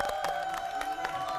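Studio audience applause welcoming Dr. Hwang Sung-joo onto a lecture stage, fairly quiet clapping with a few sharper claps standing out over a low musical tone.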